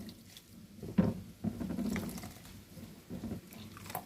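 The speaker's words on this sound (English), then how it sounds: "you squeeze the milk out of the coconut" Wet, squelching pats and drips come from grated coconut being squeezed by hand to release its milk, soft and close, in short irregular bursts with brief trickles.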